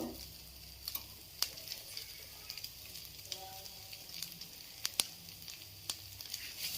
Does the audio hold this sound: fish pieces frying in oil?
yes